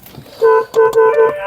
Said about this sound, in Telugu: హారన్ పర్ఫెక్ట్ ఉందండి